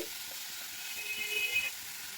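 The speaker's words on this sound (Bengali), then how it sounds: "তেল গরম হয়ে গেছে এবারে মেখে রাখা মাংসগুলো দিয়ে দিচ্ছি হাই ফ্লেমে রেখেই মাংসগুলোকে আমি একটু নাড়াচাড়া করে নেব" Marinated meat sizzles in hot oil over a high flame, a steady broadband hiss at moderate level with faint stirring scrapes, no voices.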